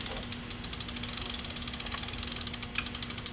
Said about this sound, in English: Set the wrench to the appropriate size in the pedal, and you'll just pedal backwards.